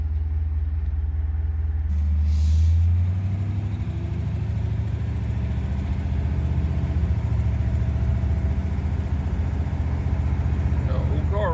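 A 1957 Ford V8 car with a worn steering box rolls down the road, heard from the front seat as a steady low engine rumble and road drone, with occasional talking over it.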